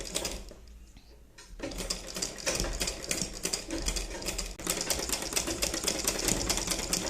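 A sewing machine runs straight stitches on a baby cap, a fast steady mechanical whirr with rapid needle clatter that starts after a brief pause and continues loud and close, no talk.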